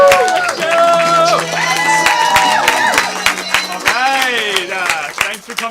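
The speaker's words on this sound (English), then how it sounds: "Give yourself a big round of applause." An audience at a comedy class show applauds and cheers for the host, with loud whoops and shouts rising over sustained clapping that swells and dips near the end.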